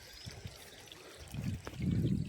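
A small waterfall stream trickles and splashes over worn rocks, faint at first and then growing into a closer, steadier gurgling wash toward the end.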